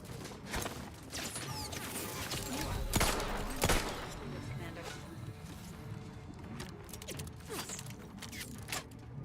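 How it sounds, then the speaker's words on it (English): Enemy gunfire in the video game Outer Worlds 2 crackles in bursts throughout, with heavier shots near the middle, mixed with mechanical clatter and game ambience under occasional talk. "Oh my god, they're still shooting at me."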